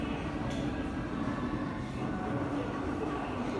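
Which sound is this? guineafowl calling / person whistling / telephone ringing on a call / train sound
train sound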